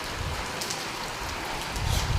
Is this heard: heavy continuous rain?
yes